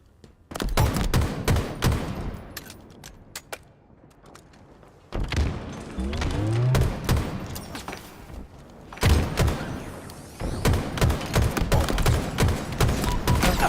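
Loud, close bursts of rapid gunfire from Halo Infinite crackle in volleys, separated by short quiet gaps, with no talking.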